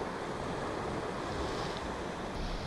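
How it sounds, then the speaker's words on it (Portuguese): Strong northerly wind at the seashore during shore fishing for squid and cuttlefish, a loud, steady roaring rush of wind buffeting the microphone with surf noise mixed underneath, no voices. "Está a ficar muito vento, está uma grande nortada"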